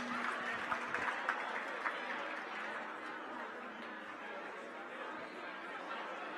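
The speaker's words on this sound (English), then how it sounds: "Big round of applause for the Vice President and Director of Athletics." Applause from the audience at a Florida State athletics preview event, a steady, fairly distant wash of clapping with scattered crowd chatter and a few laughs, lasting throughout at moderate volume.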